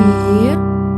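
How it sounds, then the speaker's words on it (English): Sustained piano notes ring out together, a held G octave that stays steady and resonant before fading slightly at the end. "Once again, the octave,"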